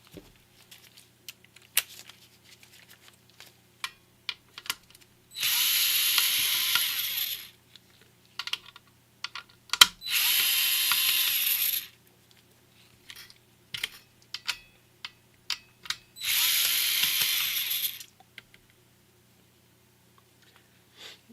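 Screws being driven out of an Xbox console with a power screwdriver, three sustained whirring bursts of about two seconds each, separated by small clicks and taps of tools and parts handled up close.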